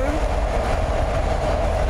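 A train rolling past near an ice-fishing spot in late-season ice, a loud steady rumble with a faint clatter filling the short stretch, close by and continuous.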